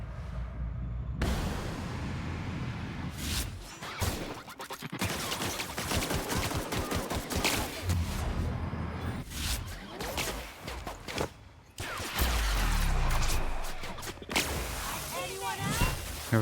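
Gunfire in The Outer Worlds, repeated shots and rapid bursts coming in loud clusters, with someone talking over parts of it.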